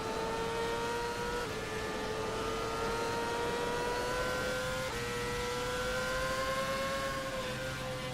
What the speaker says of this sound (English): Exiting pit lane now with that reduced front camber setting.